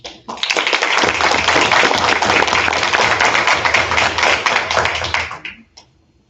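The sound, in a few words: applause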